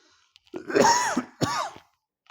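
Two harsh, close coughs, rough and throaty, the second shorter than the first.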